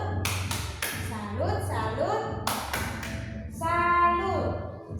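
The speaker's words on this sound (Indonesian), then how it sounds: "Mode tepuk salut ke Eti Bonfi," Students in a primary school classroom perform a rhythmic 'tepuk salut' clapping cheer, a series of sharp, loud claps and slaps with a steady beat, while voices chant and talk over it.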